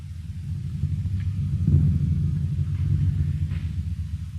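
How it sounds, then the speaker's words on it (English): A thunder drum struck continuously as an old-time radio sound effect: a steady deep rolling rumble that swells slightly partway through, sustained and heavy with little high detail. "A thunder drum being struck continuously."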